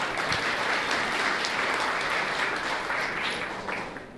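A crowd at a real estate development event in Columbia claps steadily, the applause full and even before fading slightly toward the end.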